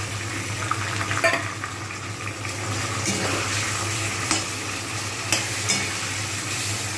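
Chicken pieces fry in a pan for biryani, making a steady, close hiss of hot oil with a few sharp clinks and scrapes of a utensil against the pan.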